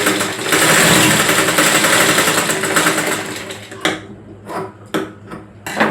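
A sewing machine straight-stitching a tux-style blouse, a loud, close, steady whirring run for nearly four seconds that then cuts off into a few sharp mechanical clicks and knocks.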